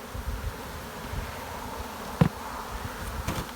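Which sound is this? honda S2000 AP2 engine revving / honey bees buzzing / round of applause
honey bees buzzing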